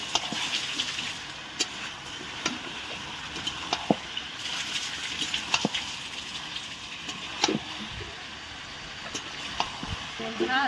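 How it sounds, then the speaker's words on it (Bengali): Chicken skin curry being sautéed and stirred in a pan, a steady close sizzle broken by scattered clicks and scrapes of a utensil against the pan. "আবার আমরা কষতে থাকবো ভালো করে।"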